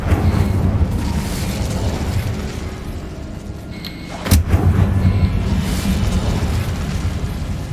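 Incendio fire spell cast in the Hogwarts Legacy video game, a sudden booming burst midway through amid a continuous low rumble of in-game ambience.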